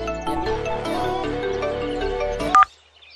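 A melodic phone ringtone plays loudly and steadily for a few seconds, then cuts off with a short beep as it's answered.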